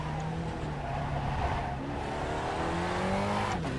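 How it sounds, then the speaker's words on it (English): A Spec Racer Ford in the iRacing sim at Spa-Francorchamps, its engine droning loud and steady with tonal whine as the tires spin, rising in pitch toward the end with a brief squeal. "Spun the tires a little bit too much there"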